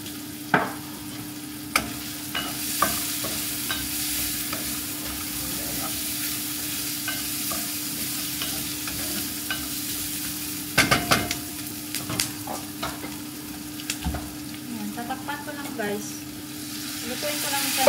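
Garlic sizzling steadily in a hot pan while being stirred, with a constant frying hiss and occasional scrapes and clinks of a utensil against the pan.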